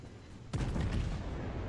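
Secondary guns of a battleship in World of Warships open fire in a sudden loud broadband blast, followed by a rumbling, crackling barrage that sustains heavily to the end.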